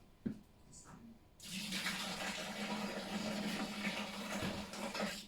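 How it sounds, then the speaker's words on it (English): Five pints of boiling water pour into a homebrew vessel, a steady gushing rush that starts after a few small clinks and continues loudly for several seconds with a low hum beneath. "I'll pour this 5 pints into that. 5 pints of boiling water."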